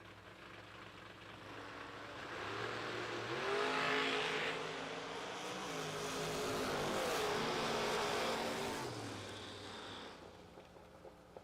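Two drag cars, a Corvette Roadster and a Camaro, launch and run down the strip, engines swelling from a distant rumble to a loud revving roar and fading again, heard without talk.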